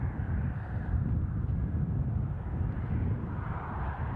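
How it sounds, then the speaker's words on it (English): Ryanair airliner pushing back at Newcastle International airport, a steady low engine rumble heard from a distance with a little wind noise and no talk. "Ryanair also pushing back."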